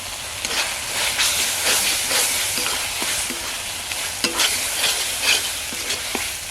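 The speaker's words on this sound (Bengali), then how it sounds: "আলুটা দিয়ে একটু কষাবো।" Potatoes stir-fried with tomato and Kashmiri chilli powder in a pan for jackfruit and prawn curry, a steady loud sizzle with repeated scraping stir strokes throughout, no voices.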